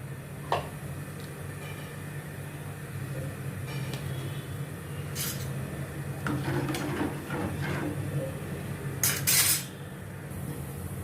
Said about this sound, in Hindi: सब मसाले डाल के इसको मैंने अभी अच्छी तरह से मैंने घुमाया है।